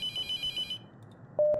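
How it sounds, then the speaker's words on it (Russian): A telephone rings in The Mortuary Assistant horror game, with a steady electronic ring tone repeating for under a second before a short quiet gap and a louder, different beep near the end. "Ой, телефончик звонит."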